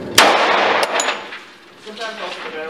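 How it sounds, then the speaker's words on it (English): A single loud shot from a 1911 Commander pistol chambered in .45 ACP, one round in the magazine, cracks sharply and rings out with a short echoing tail, followed by faint mechanical clicks. "we'll start with one shot, one round in the magazine"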